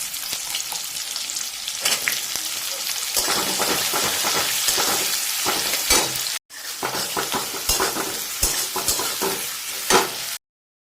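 Chopped onions fry and are stirred in a pan of hot oil for a spicy egg masala, with a steady, close crackling sizzle and scraping stirs that fill the clip except for a brief gap near the end.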